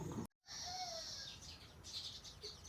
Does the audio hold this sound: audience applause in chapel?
no